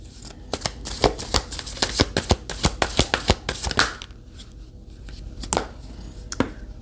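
Tarot cards being shuffled by hand for a reading, a quick run of crisp riffling snaps and slaps for about four seconds, then a quieter stretch with a few isolated card flicks, close up with no talking.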